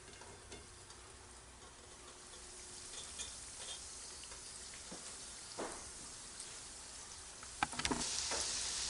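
Minced beef and potato rolls shallow-fry in a little oil over medium-low heat, giving a steady soft sizzle with scattered pops and a few louder crackles near the end; no voices.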